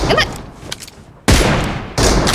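Gunfire from an M20 weapon in a shooter video game, a loud burst cutting in abruptly partway through, then another sharp burst near the end, over quieter game noise.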